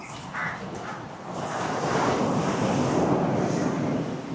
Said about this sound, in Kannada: ಅಲೆಗಳು ಜಾಸ್ತಿ ಮೇಲೆ ಬರ್ತಾ ಇದೆ, ತುಂಬ ರಭಸದಿಂದ ಬರ್ತಾ ಇದೆ